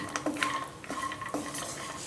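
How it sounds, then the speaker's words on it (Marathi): Cashews and almonds roast in ghee in a pan, with a soft sizzle under several sharp clinks and scrapes of a spoon stirring against the metal. No one speaks. "काजू बदाम आपले तुपामध्ये छान फ्राय झालेले आहेत"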